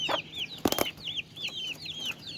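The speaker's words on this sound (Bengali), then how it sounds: "আর এখানে আমাদের সেই বাচ্চা মুরগিগুলা, 7টা মুরগি আছে" Seven baby chicks, mostly white with one black and one red, peep in a steady run of high, thin chirps, with a brief louder scuffle partway through.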